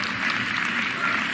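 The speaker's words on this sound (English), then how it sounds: "Give a round of applause for Market East." Steady applause from an audience at a mayor's State of the City address, a continuous even patter of clapping with no break.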